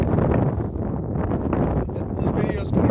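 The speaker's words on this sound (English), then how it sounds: "This video is going to really be bad because it's so windy out here right now" Strong outdoor wind buffets the microphone on a hiking trail, a loud continuous low roar and rumble that fills the whole stretch without letting up.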